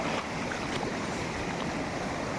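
A steady rushing wash of a monsoon-season stream flowing, close and continuous, with no voices.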